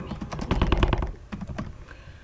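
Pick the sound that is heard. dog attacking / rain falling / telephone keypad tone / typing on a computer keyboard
typing on a computer keyboard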